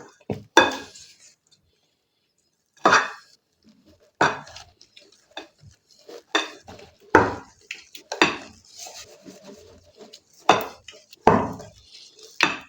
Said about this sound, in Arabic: شايفين ما بدنا نخفق بسرعة لحتى الهواء ما يطلع، وما بدكم تبالغوا بعملية الخفق